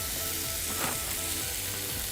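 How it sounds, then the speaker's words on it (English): Two venison steaks sizzling loudly in a hot pan outdoors by the water, a steady close crackle and hiss with a brief surge as the meat settles. "you can hear that sizzle as they go straight in"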